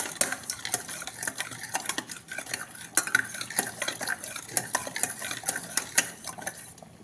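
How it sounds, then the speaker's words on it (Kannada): A ladle stirs and mashes cooked lentils for avarekalu sambar, giving close, irregular scraping and clinking against a metal pot in quick repeated strokes with soft wet squelches, and no voices. "ಈ ಥರ ತೊಗೊಂಡಿದ್ದ ಬೇಳೆನ ಈ ಥರ ಸೌಟಲ್ಲಿ ಮಸಿಬೇಕು"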